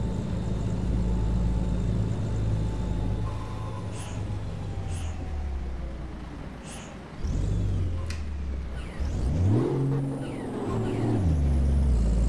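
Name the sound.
truck driving in Euro Truck Simulator 2 (video game)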